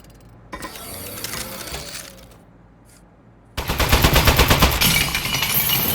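Turret gunfire in the video game Aperture Desk Job: a softer mechanical stretch, then a loud rapid burst of automatic shots with clinking, ratcheting rattles, sustained for several seconds.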